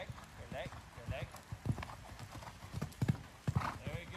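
Horse hooves clip-clop in an uneven rhythm during a show-jumping lesson, with occasional snorts or a whinny, fairly quiet and mixed with a rider or instructor talking.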